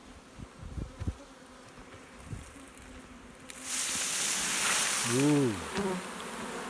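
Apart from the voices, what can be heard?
honeybee swarm buzzing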